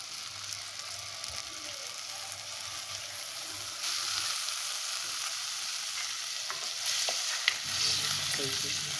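Fish pieces crackle and sizzle steadily in a frying pan, a continuous hissing fry with occasional sharper pops, fairly close and alone without voices.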